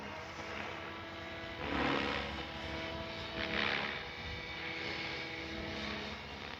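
A Flightline F4U Corsair RC model airplane drones overhead with a steady propeller buzz that swells twice as it passes nearer, then settles back to a moderate, distant hum.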